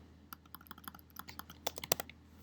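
Quick, uneven clatter of computer keys as code is deleted, irregular taps that grow into a denser burst near the end, faint and close by.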